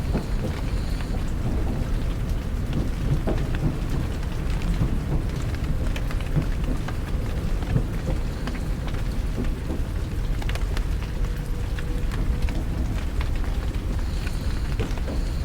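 Soft, steady rain falls continuously with a low rumbling undertone that suggests distant thunder, an even wash of sound with no voices, as if heard from inside a train on a wet, stormy night.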